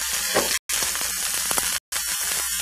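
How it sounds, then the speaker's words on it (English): Thick venison steaks pepper-searing in a hot pan give off a loud, dense, steady sizzle and crackle, broken twice by brief cuts to silence. "what we're trying to do is like form a crust on the bottom of the meat"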